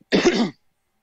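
A single harsh cough or throat-clearing burst, close and loud, lasting about half a second and then dropping to silence.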